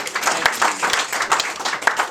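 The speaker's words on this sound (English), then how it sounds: "applause to Kim and all the Republican women." At a political gathering in a private farmhouse home, a modest crowd claps in a lively, uneven patter with some louder individual claps standing out nearby, moderately loud, with no talk over it.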